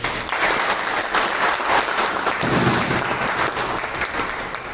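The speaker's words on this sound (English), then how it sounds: "I request everybody to have a round of applause for yourself for turning up" An audience at a club meeting claps for itself after a gavel is struck: a steady round of many hands, fairly near and moderately loud, swelling slightly midway before holding steady.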